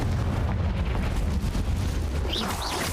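A Confringo fire spell blasts in Hogwarts Legacy, a continuous heavy rumbling explosion with a dense low roar throughout and a couple of bright whooshing swirls near the end, with no talking.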